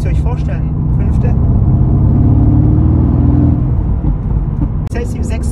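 Mercedes-AMG GT S with a Stage 1 tune accelerating hard in fifth gear on a damp, drizzly road, its engine droning loud and steady with a rising tone under continuous talk.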